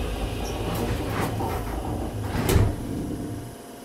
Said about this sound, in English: Doors are closing.